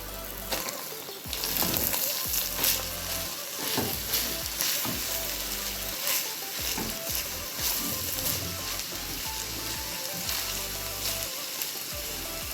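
Minced meat and cubed onions fry in a pan with a dense, continuous sizzle, broken by occasional stirring scrapes and clatters; close and fairly quiet, with no voices.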